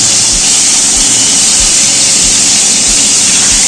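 Marinated fish pieces being turned in hot mustard oil in a pan, a steady loud broadband sizzle and hiss throughout, close and continuous with no talk.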